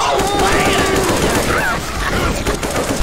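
Steady automatic gunfire in the Left 4 Dead 2 zombie co-op shooter on Realism/Expert, continuous and loud across the whole stretch, with game voices calling out faintly underneath.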